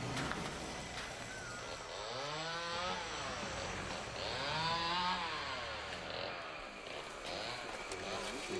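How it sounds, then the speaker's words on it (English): Whining chainsaw engines rise and fall in pitch in the distance in the Amazon rainforest, with a steady wash of outdoor background noise. "You can hear chainsaws."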